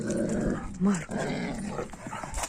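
A dog growls and grumbles in a home during an excited first meeting with a newcomer, a low rumble under people talking throughout, with a brief higher whine near the middle.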